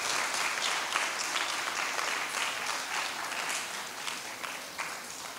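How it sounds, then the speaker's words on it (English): An audience at an inter-high school debate in the Turks and Caicos Islands applauds the student debaters, a dense continuous round of clapping from a full room, fairly distant and steady throughout. "Let's give our debaters a round of applause."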